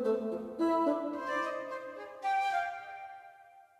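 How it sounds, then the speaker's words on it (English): Bassoon and flute pass a short, playful comedy melody back and forth in an orchestral score, soft and fairly quiet, a few light phrases alone with no talking. "So you have this little melody that's being traded off between the bassoon"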